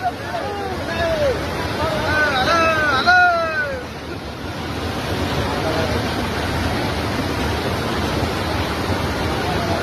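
Water pouring over a bridge, a loud continuous rushing roar that fills the whole clip, with a voice calling out briefly over it near the start.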